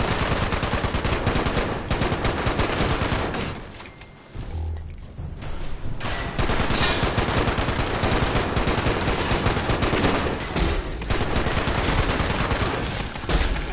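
Fallout 76 gunfire, dense rapid bursts of shots filling most of the stretch, broken by a short quieter gap before the firing resumes loudly.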